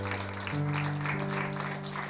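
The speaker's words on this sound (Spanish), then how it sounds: "¿Le podremos dar un aplauso fuerte al Señor?" Applause from a church congregation at a Sunday Advent service, a steady wash of clapping beneath sustained organ or keyboard chords that shift pitch partway through, with no talking.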